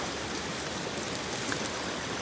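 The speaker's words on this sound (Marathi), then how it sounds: "फुल पाऊस पडतो इकडं." Heavy rain pours steadily outdoors during a downpour, a dense, even hiss of falling water with no breaks, close and continuous throughout.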